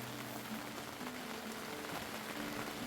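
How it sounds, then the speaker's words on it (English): Steady rain patters onto plants and soil in an off-grid food garden, a dense even hiss of drops at close range with no voices. "So it started raining."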